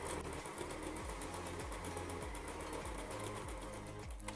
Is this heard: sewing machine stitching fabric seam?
yes